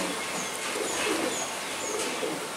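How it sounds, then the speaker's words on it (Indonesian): Small pigeon of a PW racing type cooing softly in a loft, a few low murmuring coos under a steady broadband background hiss, fairly faint and distant. "Ini penampakan dari burung yang bernama PW ya."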